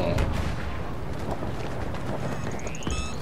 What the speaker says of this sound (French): Il y a quelqu'un qui nous tire dessus